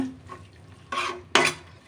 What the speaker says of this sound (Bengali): এবার আমি মশলাটাকে আরেকটু কষিয়ে নেব।